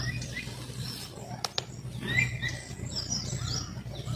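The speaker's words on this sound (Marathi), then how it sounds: "पक्ष्यांचा आवाज येतो सकाळी सकाळी." Faint morning bird chirps and tweets scattered over a low steady outdoor hum, with a couple of brief sharp clicks partway through.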